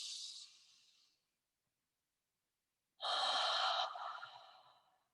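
Slow breathing exercise for anxiety relief: a breathy exhale trails off, followed by a long silence, then a louder, fuller breath rushes in and fades, close and alone.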